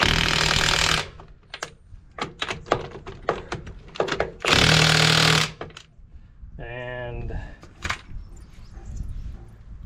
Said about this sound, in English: A 1/2-inch gun will get them tighter than they need to be.